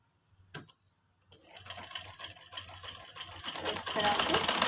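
Sewing machine stitching a kurti sleeve: after a short knock and a pause, the motor starts and runs in a fast, rising mechanical rattle, near and steady.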